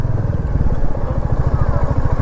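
Motorcycle engine revving steadily while riding along a sandy desert road near Jaisalmer, with a loud, close, pulsing low rumble under faint wind noise.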